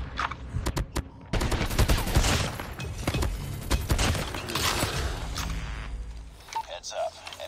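Rapid bursts of Krig 6 rifle fire crackle through a first-person shooter match, dense automatic volleys and scattered single shots over several seconds, with players talking over the gunfire.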